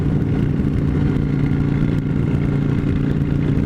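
A 2005 Honda Shadow Aero 750 motorcycle runs close by, its engine giving off a steady, loud, low rumbling idle with a faint mechanical clatter throughout.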